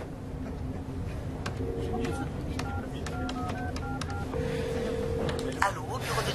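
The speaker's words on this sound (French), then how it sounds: "Il faut que j'appelle John Price." Telephone number dialed in a French film, a run of distinct touch-tone beeps at uneven intervals over a busy background, ending with a longer tone, with speech around it.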